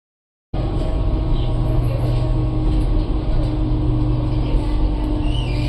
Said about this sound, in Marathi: इकडं पण चालली लोकल ट्रेन